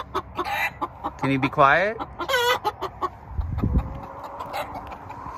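Chickens cluck and squawk loudly in bursts near a winter garden, with rising call sequences, while a person speaks over the flock.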